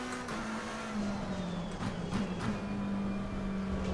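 A race car in the Assetto Corsa Competizione racing game brakes into a corner, its steady engine drone dipping as brief tire scrubs and squeals flicker through the middle, heard close and alone with no voices.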